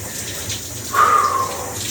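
Cold shower water running steadily, a broad hiss that swells louder about halfway through and keeps pouring without a break.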